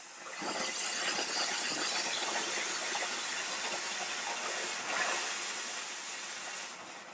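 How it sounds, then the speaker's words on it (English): A Chief garment steamer hisses steadily at full flow, a loud broadband rush that holds for several seconds with a slight swell near the end and no voices. "And that's the maximum amount of steam."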